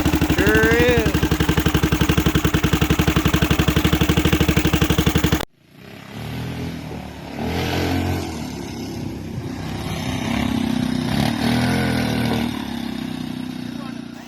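A 2006 Zhejiang Kangdi 250cc go-kart engine runs loud and steady at idle with a rhythmic clatter, then cuts off abruptly, leaving a loud fan whirring alongside a voice talking.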